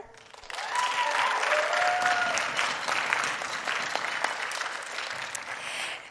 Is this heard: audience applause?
yes